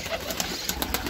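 Pigeons at a pigeon farm cooing and calling close by in a short burst, several soft repeated notes over a steady background murmur.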